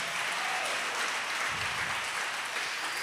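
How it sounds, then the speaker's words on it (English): A church congregation claps together in sustained, dense applause that stays loud and steady from start to finish, with no clear speech over it. "Now clap your hands right there and let's give God"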